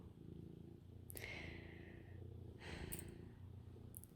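A cat purrs softly and steadily during a close cuddle, with a few faint snorting breaths breaking the low, continuous rumble.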